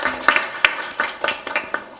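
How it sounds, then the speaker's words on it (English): Sparse applause at the close of a research seminar: a handful of distinct claps in an irregular rhythm, fairly near, from a small audience rather than a full crowd. "I'd like to give another round of applause."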